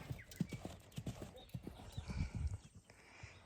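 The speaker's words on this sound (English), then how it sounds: "I've got one more way to canter before I jump." A horse canters on a farm, its hooves clip-clopping in a quick, uneven rhythm at close range. The sound is fairly quiet, and faint voices can be heard in the background.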